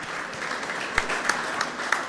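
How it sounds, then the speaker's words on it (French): An audience at a game jam event in Pantin applauds a team, a steady moderate wash of clapping with a few sharper, louder individual claps popping out near the front. "applaudissez très fort cette équipe."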